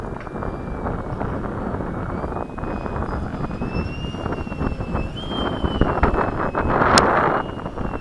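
Skysword RC airplane, a $160 model with an upgraded power setup, flying overhead and coming in to land at a flying field, its steady whining motor drone shifting in pitch as it passes, with wind buffeting the microphone throughout.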